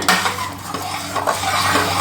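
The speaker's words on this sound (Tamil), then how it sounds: "இப்போ அதை அப்படியே சேர்த்து மிக்ஸ் பண்ணி விட்டுக்கோங்க" A spoon scrapes and stirs thick green gram masala in a metal pot, with clinking and a faint sizzle underneath, in repeated close strokes.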